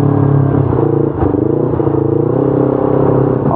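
A Yamaha R25, an older 250 cc two-cylinder sport motorcycle, revs loudly at close range. Its engine gives a steady throbbing drone with a brief dip and a pitch swell partway through, and there is no speech.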